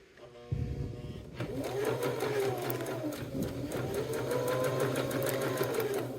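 A sewing machine bastes the cork lining of a wallet, stitching steadily and close for several seconds after a short start, its motor hum and rapid needle rhythm continuous.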